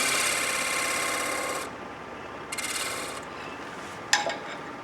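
A skew chisel cuts across a spinning wood burl on a lathe during a woodturning demonstration, giving a steady rasping scrape that stops abruptly, then returns in two shorter bursts with a sharp tick near the end.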